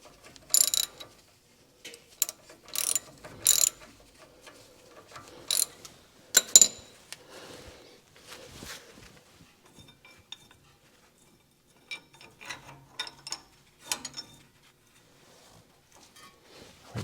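Sparse metallic clicks and ratcheting bursts from a socket ratchet tightening tie rod end bolts on a 2005 Ford F-350, coming in short irregular spurts with quiet gaps between, close by and fairly faint.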